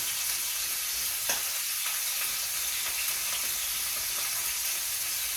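Onions sizzle and crackle steadily in a hot frying pan, cooking too fast, a constant bright hiss with occasional pops, close and moderately quiet.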